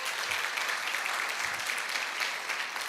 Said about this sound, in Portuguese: Salva de palmas para a nossa equipe de música